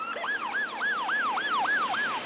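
An ambulance siren wails in a steady rising-and-falling yelp, loud and close, cycling about every quarter second with no talk over it while the crew responds to a call.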